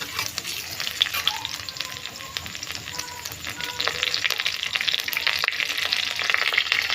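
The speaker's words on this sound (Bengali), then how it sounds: "আমি রসুন কুচি দিয়ে দিলাম, আদা কুচি দিয়ে দিলাম" Chopped garlic and ginger fry in hot oil in a pan, giving a steady crackling sizzle with scattered pops that grows slightly louder toward the end, with no talking.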